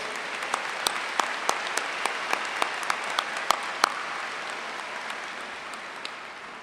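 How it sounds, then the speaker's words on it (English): Graduation ceremony crowd applauding in a large hall, a steady wash of distant clapping with a few sharper individual claps standing out, moderately quiet and gradually thinning toward the end. "Let's give him another round of applause"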